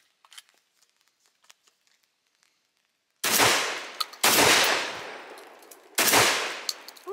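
A Vepr 12 shotgun fires three loud, close blasts, each with a ringing decay, after a stretch of faint clicks and handling noise.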